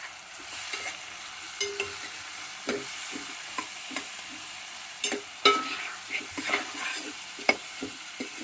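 Capsicum and potato pieces fry in a thick steel pot with turmeric, a steady low sizzle broken by repeated scraping stirs of a spoon against the metal, close and moderately loud with no talking.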